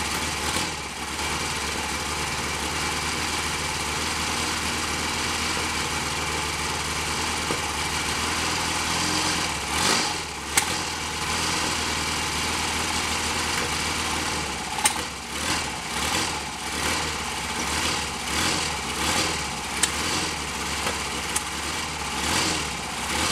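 Cold Royal Enfield Constellation motorcycle engine running steadily with a busy mechanical rattle, broken by occasional sharp spits back through the carburettor, loud and close throughout.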